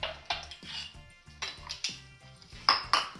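A metal utensil scoops cookie dough into a glass mason jar, making a series of rhythmic clinks and scrapes, close up and alone.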